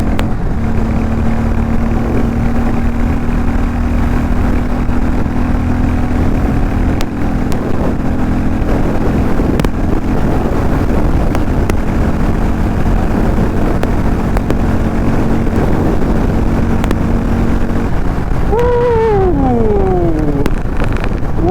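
Harley-Davidson X440T six-speed motorcycle on the move, its engine a loud steady drone, with rising and falling pitch sweeps near the end as the revs change.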